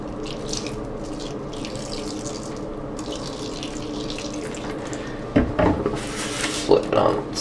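91% isopropyl alcohol splashes and trickles onto a Lenovo ThinkPad T61 laptop keyboard, a close liquid pour and wet rattle followed by louder clattering handling noises, with a voice speaking briefly.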